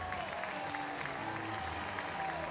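A baseball crowd at an LSU game applauds steadily to encourage pitcher Gervais on the mound, a sustained spread-out clapping heard from a distance.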